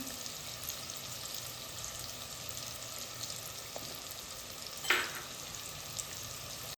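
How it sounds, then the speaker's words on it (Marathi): Onions with garlic and turmeric sauté in a clay pot, giving a steady, even frying hiss with a brief stirring scrape partway through. "तर कांदा आहे तो परतून होतोय"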